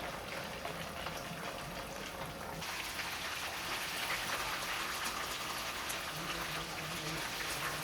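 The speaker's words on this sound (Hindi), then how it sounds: "तो ऐसे ही हम दूसरा बैच भी फ्राई कर लेते हैं।" Chicken palak cheese kebabs frying in hot oil in a pan, a steady dense sizzle and crackle running unbroken from start to finish at close range.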